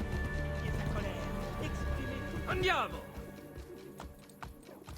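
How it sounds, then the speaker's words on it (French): A horse's hooves clatter in the video game Assassin's Creed Brotherhood, with a short whinny rising partway through, all set against busy game ambience while a player shouts a brief call. "Moi je suis en train de garer mon cheval hein."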